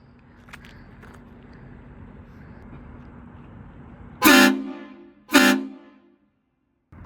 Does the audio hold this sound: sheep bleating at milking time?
no